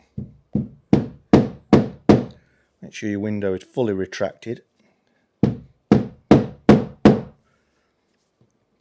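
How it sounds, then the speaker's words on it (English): A rubber mallet knocking the back edge of a window waist seal on a Jaguar XK8: two close bursts of about five evenly spaced dull thuds, separated by someone speaking. "I'm just going to knock the back edge with a rubber mallet."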